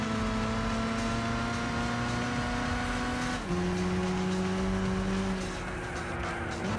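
A race car engine in Gran Turismo 6 drones steadily at high revs, then drops pitch with a gear shift partway through and holds a sustained, even tone to the end.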